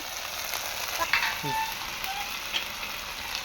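Tomato and salt sizzle in hot masala for a katla fish kalia, a steady close frying hiss with a few faint clinks from stirring, no voices.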